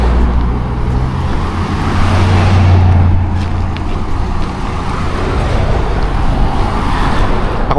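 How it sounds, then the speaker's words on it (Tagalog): Steady, loud roadway noise as cars roll past on a roadside near Red Rocks Amphitheater in Colorado where many are parking, a continuous engine rumble with one heavier pass swelling near the middle. "Daming daming sasakyan nagpa-park sa tabihan."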